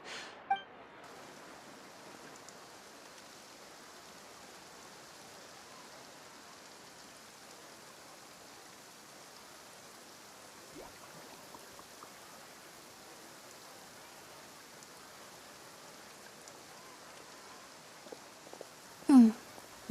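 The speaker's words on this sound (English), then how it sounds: "Looks like rain." Steady rain falling in a video game, a soft even hiss throughout, faint and close, with a brief louder tap near the end.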